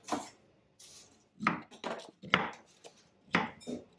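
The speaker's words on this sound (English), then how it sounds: "So I'm just cutting it up real quickly." A knife chops vegetables on a cutting board in quick, uneven taps, close and crisp, with short pauses between strokes.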